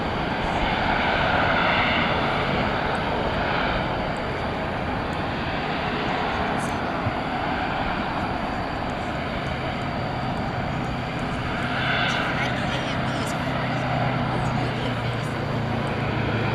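Airplane engines roar steadily at DFW Airport at night, a loud continuous jet rumble that swells and fades as aircraft pass, with a person talking faintly in the background.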